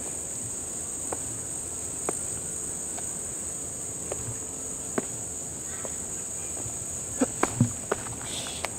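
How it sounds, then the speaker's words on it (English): Steady high-pitched cricket chirping fills the night air near water and a campfire, continuous and even, with a few faint clicks and taps scattered over it. "you get to listen to the sounds of the water at night, these crickets"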